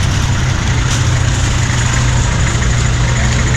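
A vehicle engine idles steadily at a busy parking area for motorcycles, tricycles and four-wheelers, a constant low rumble running unbroken and fairly loud, with no talk.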